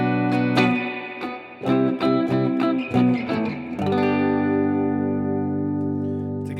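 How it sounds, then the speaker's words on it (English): Electric guitar run through digital effects and amp modeling with a chorus and heavy reverb, a run of plucked notes and chords ringing into a long, washy sustained decay, loud and alone with no talk. "Maybe you can increase the reverb a lot more."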